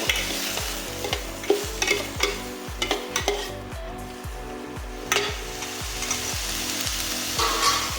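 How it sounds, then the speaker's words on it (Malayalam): Garlic frying in a pan on an induction cooker, stirred steadily: a bright, constant sizzle carries a regular rhythm of scraping strokes, about two per second, close and fairly loud, with no talking. "വെളുത്തുള്ളി ഇട്ട് കൊടുത്തിട്ട് നന്നായി ഇളക്കി കൊടുക്കും."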